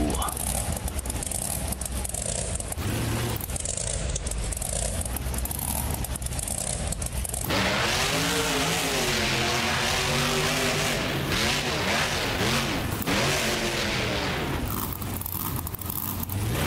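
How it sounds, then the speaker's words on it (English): The El Toro Loco monster truck in the BeamNG.drive racing game gives a loud, continuous engine roar whose revs rise and fall in waves, with a voice heard over it. "Please welcome Lupe Sosa in El Toro Loco"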